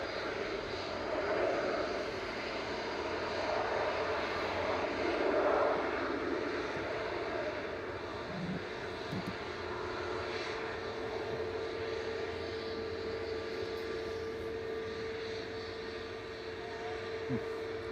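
An ATR turboprop airliner, G-OATR, rolling out on runway 23R at Manchester Airport, giving a steady droning engine whine with a humming tone, moderately loud and gradually easing off.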